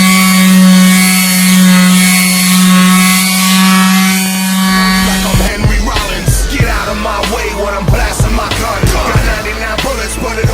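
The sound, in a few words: sanding car body trim by hand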